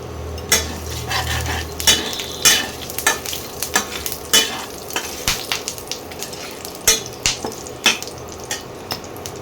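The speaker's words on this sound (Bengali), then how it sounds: "এবারে ফোড়ন দেব গোটা জিরে, গোটা গরম মশলা আর 2টো তেজপাতা।" Whole cumin, whole garam masala and bay leaves sizzle in hot oil in a pan, with a soft continuous frying hiss and sharp spoon clinks and stirring knocks against the metal at irregular intervals.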